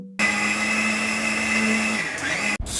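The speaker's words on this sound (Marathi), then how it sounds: "सगळी सामग्री ऍड झालेली चला मिक्सरमध्ये दळून घेऊ" A mixer grinder runs at high speed grinding a tomato, onion, grated coconut and spice masala with mustard seeds, a loud steady motor whine and churn that starts abruptly, wavers slightly near the end and cuts off.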